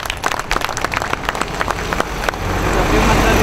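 Applause for a group of workers, with many sharp claps in the first half blending into denser, louder clapping and a wash of crowd noise by the end; a voice is heard in the mix.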